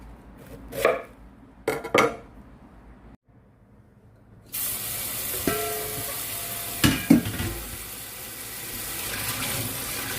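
Cabbage for kimchi is cut with a knife in two sharp early chops, followed by a short silence and then a steady rushing wash with a few more knocks.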